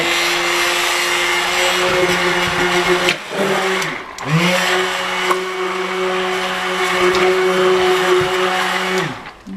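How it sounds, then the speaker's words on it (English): An electric stick blender mixing cold process soap whirs steadily, dipping in pitch and cutting out briefly near the middle before resuming its motor hum. "Put my stick blender in the water."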